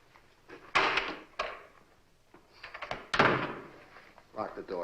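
A door thuds shut in a few heavy knocks and a firm slam amid speech from people in the room, close and moderately loud against a quiet background.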